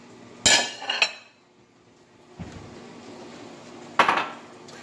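A serving dish picked up in a kitchen after the pasta is cooked, three sharp clinks of ceramic and metal spread out with quiet gaps between them, close and without talk.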